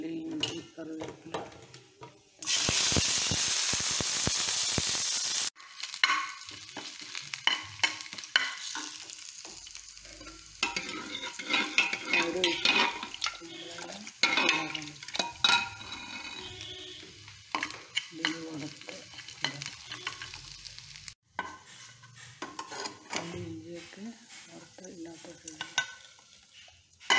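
Mustard and fenugreek seeds fry in hot oil in a pan for a buttermilk curry with ash gourd. A loud burst of sizzling hiss comes early, then spoon stirring and pot clatter run on and off.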